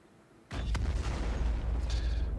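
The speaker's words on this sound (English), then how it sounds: "Okay, first explosion." A quantanium rock detonates in a space mining video game, a sudden heavy boom with a sharp crack that opens into a long rumbling roar, loud and alone.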